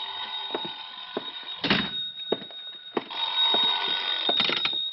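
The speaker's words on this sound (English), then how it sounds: "sorry. I think that's my phone." A telephone rings in an old-time radio detective drama, repeating in bursts of electric bell tone over about five seconds. Faint knocks and thumps are heard alongside it, with no talk.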